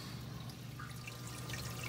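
Water running through a DIY algae scrubber on a reef aquarium, a steady close trickle and splash of flowing water over a constant low pump hum, with no voices.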